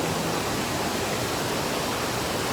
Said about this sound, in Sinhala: මේක තමයි අපිට හම් වෙන පළවෙනි ඇල්ල.